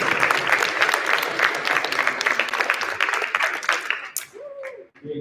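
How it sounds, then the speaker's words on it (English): A crowd applauds academic award winners, loud dense clapping for about four seconds before it fades out abruptly, followed by a brief voice and a few stray sounds. "All right, let's have one more round of applause for our ACE award winners."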